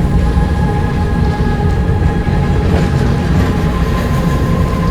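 An underground mine railway train rumbles along continuously with a loud, steady mechanical drone and metallic hum, close and unbroken for the whole stretch.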